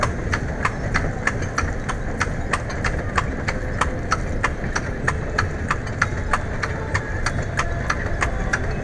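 Steady, rhythmic clip-clop of horse hooves on a hard road, with an engine droning low underneath throughout.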